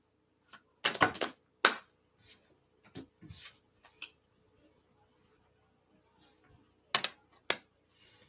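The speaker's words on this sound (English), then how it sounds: "One more shuffle." A tarot card deck being shuffled, with quick bursts of crisp card riffles and taps scattered across quiet pauses, close and fairly faint.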